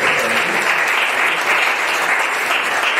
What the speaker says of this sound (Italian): a cui vorrei fare un grossissimo applauso